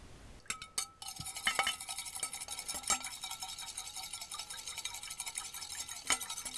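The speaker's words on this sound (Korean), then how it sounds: "생크림은 따로 휘핑을 해줄 건데" Fast, steady whisking of cream by hand in a bowl: continuous rapid scraping and light metallic clicking, close and fairly quiet.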